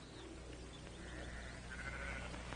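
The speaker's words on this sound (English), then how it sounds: "Now, Drummond, get those sheep out now." Sheep bleating faintly on a western ranch setting, a couple of drawn-out bleats rising over a low, steady background rumble, distant rather than close.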